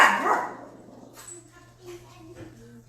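Dogs bark in a short sharp burst at the start, followed by softer yips and whimpering sounds, close by, with a steady low hum underneath.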